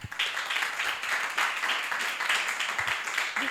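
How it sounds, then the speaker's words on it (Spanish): Warm audience applause at a literary event with author Ana Cerezuela, many hands clapping in a continuous, even roar that holds steady for several seconds at moderate volume. "démosle un fuerte aplauso, por favor."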